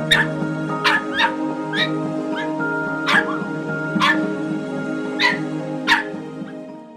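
Dogs at an animal shelter in Utinja bark and whimper in short, repeated bursts, about eight yelps spread across the clip, loud and close over a steady background hum.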